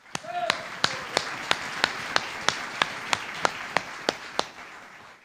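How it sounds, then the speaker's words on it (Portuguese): Rhythmic clapping from a church congregation, about a dozen sharp, evenly spaced claps in a steady beat over a faint room background. "Uma salva de palmas a Jesus"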